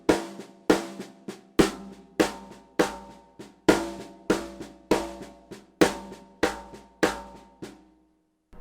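Drum kit playing a seven-stroke linear fill with accented hand strokes, a repeating pattern of sharp snare and tom hits over kick thuds, close and loud with no voices, ending in a short ring.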